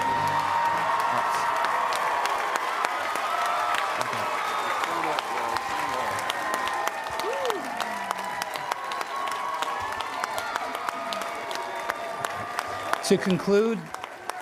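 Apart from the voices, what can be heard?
audience applause and cheering for graduates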